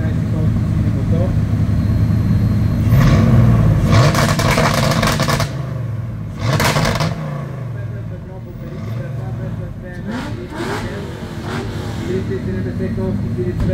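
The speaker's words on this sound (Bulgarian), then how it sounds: "Веселин Василев от Сливен е с жълтото BMW 30 V8 315 конски сили мотор." A yellow BMW rally car with a 315-horsepower V8 runs loudly at a mountain hill-climb event, its engine roaring and revving close by, fading and rising again, with a commentator talking over it.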